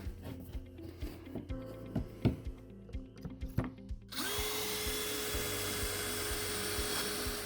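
Several short taps and clicks give way to a power drill whirring steadily and loudly at close range, boring pocket holes into wood through a pocket-hole jig.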